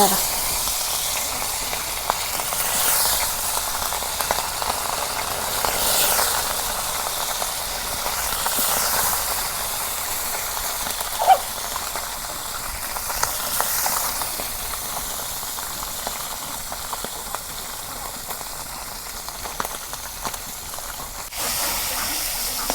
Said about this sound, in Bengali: তেল গরম হয়েছে এখানে আমি এক এক করে মাছগুলো ভাজা নেই